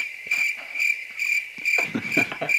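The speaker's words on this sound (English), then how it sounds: "Insert crickets." Crickets chirp in steady, evenly spaced pulses, bright and close, with a soft patter of background noise and no voices.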